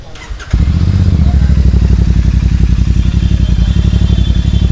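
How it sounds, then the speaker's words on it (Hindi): A Royal Enfield Super Meteor 650 fitted with a Hurricane exhaust fires up and settles into a loud, steady, deep rhythmic thump, sustained close by after a brief quiet start. "अब सुनते हैं हैरिकेन एग्जॉस्ट की साउंड।"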